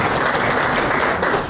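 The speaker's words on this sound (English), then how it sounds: "Let's give them a round of applause" Conference audience applauding together, a dense, steady wash of many hands clapping that holds at full strength for the whole moment with no voices over it.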